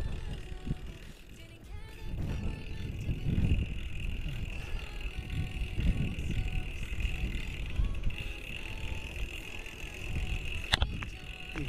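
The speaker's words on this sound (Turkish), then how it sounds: "Rüzgar karşıdan esiyor." Steady headwind rushes across the microphone while riding a bicycle on a road tour, with a constant whine and occasional mechanical clicks.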